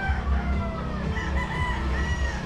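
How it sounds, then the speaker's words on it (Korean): A rooster near lodgings in Moalboal, Cebu, crows loudly and close in a long drawn-out call, backed by clucking from other fowl on a rainy day. "아우, 닭이 엄청 울어대네."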